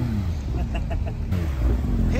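A car engine revs among the crowd of cars at the Nürburgring CarFreitag meet, a steady mid-pitched engine drone with people talking over it.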